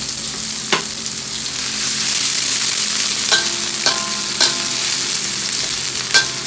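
Onions and whole spices frying in oil in a pan for chicken curry, a steady close sizzle with several sharp scrapes and clinks of stirring.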